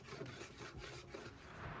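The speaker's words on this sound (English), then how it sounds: "Here I'm using my hand plane to ensure these pieces are as flat as possible." Steady rasping strokes of a hand plane flattening wood pieces for a woven charcuterie board, repeating in a quick even rhythm, close up and continuous without any voices.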